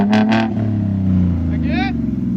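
A Ford Mustang 3.7L V6 with a loud aftermarket exhaust rumbles in a steady, deep drone close by, while people talk over it.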